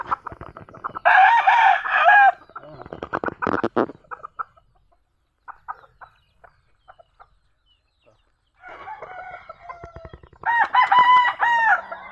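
A rooster crows loudly twice, with clucking and scattered calls between, then crows again near the end; close and clear.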